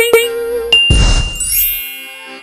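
A notification bell gives a bright ding with a clear ringing tone, then a second strike, followed by a whooshing swell and a long shimmering decay.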